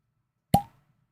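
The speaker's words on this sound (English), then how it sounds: "Dave's going to crack the bottle now" A cork pops out of a wine bottle in a single sharp, close plop that fades quickly, with silence before and after.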